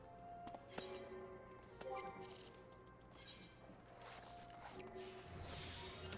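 Glass fiber being crafted in Final Fantasy XIV, with repeated light clinks and glassy pings over a steady bed of game music, faint throughout.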